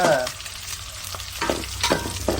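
Onions frying in oil in a pot for gongura pulao, a close, steady crackling sizzle with a few brief spatula scrapes and knocks against the vessel.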